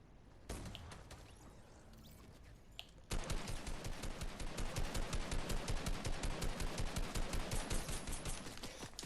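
Rapid gunfire in the Fortnite video game, starting with scattered single shots and then turning into a long, dense stream of automatic bursts at a fast, regular rhythm, loud and continuous over the final six seconds.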